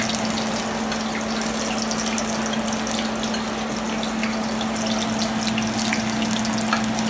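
Food is mixed in a hot pan, slightly burnt, with a loud continuous sizzle and a steady low hum underneath. No voices.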